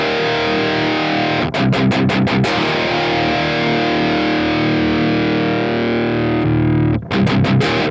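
An electric guitar plays through a Bias FX overdrive with reverb off, sustaining thick distorted chords broken by quick muted chugging strums in the middle and again near the end, loud and unaccompanied.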